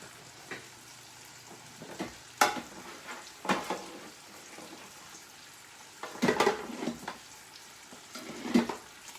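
Eggs frying in a pan for a bagel sausage egg sandwich, a soft steady sizzle with a few louder scraping and clinking bursts of a utensil against the pan, no talking.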